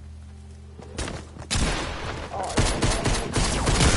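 Gunfire in a video game, with a shotgun in play, erupts in loud, dense bursts of blasts that come close together, while a voice speaks briefly early on.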